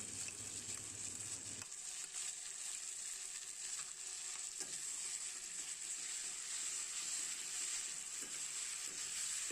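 Ground masala paste for a local chicken curry fries in a pan, a steady close sizzle with occasional soft scrapes of stirring, a brief low rumble at the start, no talking.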